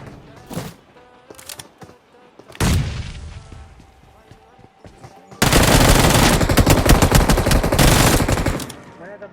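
Battle royale video game gunfire: a few scattered single shots and booms, then a long dense burst of rapid automatic fire, loud and close, ending abruptly.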